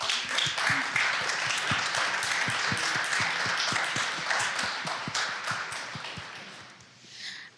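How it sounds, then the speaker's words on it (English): Audience applause in a room during a talk event, a dense steady patter of many hands clapping close by that slowly thins and fades out. "let's all of us give them a round of applause"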